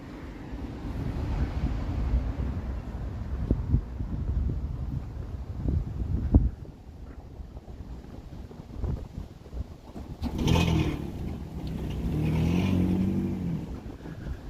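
Gusty wind buffets an outdoor microphone on a Toronto street, a steady low rumble that swells and eases, with traffic noise mixed in and louder gusts near the end.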